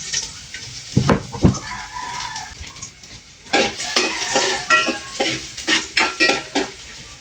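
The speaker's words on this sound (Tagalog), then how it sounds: "magigisa na po tayo. Bawang sa sibuyas." Garlic and onion sizzle in a pan while a utensil repeatedly scrapes and stirs, producing rhythmic clinks and scrapes up close.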